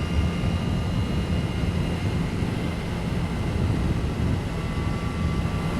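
Steady broadband engine and wind roar from a Triumph Rocket 3 R motorcycle being ridden, a continuous even drone throughout with no speech.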